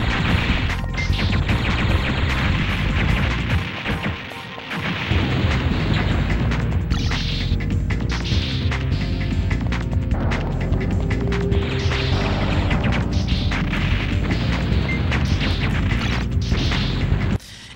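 Colliders being blown up in the Silent Bomber video game, a steady barrage of heavy booms, crashes and sharp thwacks over a continuous low rumble, loud and dense throughout with no talk.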